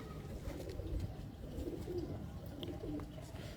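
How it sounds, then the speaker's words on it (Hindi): Breeding pigeons in Multan coo softly and continuously, close by, a low, rolling, throaty murmur against a dull background. "वाह जी वाह, परफेक्ट कबूतर है।"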